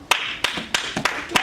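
A congregation claps in unison to acclaim the Lord, giving five sharp, evenly spaced claps about a third of a second apart, loud and close, with no speech.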